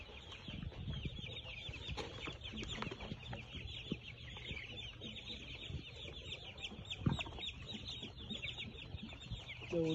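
Flock of large chickens on a farm, just after vaccination, clucking and chattering continuously, a busy overlapping murmur of many birds with sharper calls poking through, fairly close.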